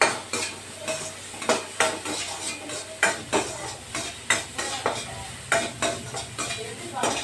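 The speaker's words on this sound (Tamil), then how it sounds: "இந்த தேங்காய் ஃப்ரீசரில் இருந்தது அதனால் சும்மா அப்படியே வெறும் வானலில் ஒரு வானல் வறுத்துக்கலாம்" Frozen grated coconut dry-roasting in a bare wok, stirred with regular scraping clacks of a spatula against metal about twice a second over a soft sizzle, close and clear, no speech.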